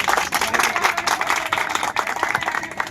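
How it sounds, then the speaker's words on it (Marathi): A crowd applauds steadily and densely at a protest gathering at Azad Maidan, the clapping sustained and fairly loud without a break. "त्यांच्यासाठी एक टाळ्या वाजवतो"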